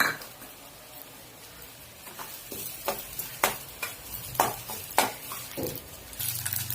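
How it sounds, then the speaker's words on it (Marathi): Mustard seeds roasting in hot oil in a wok crackle with sharp, scattered pops, sparse at first and then quicker and louder over a soft sizzle, with an occasional clink of metal. "आपली मोहरी भाजून झाली आहे, तडतड करायला लागली"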